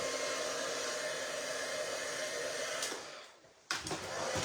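A heat tool blows steadily on wet stamp ink, a constant whooshing hum that cuts off briefly and then starts again.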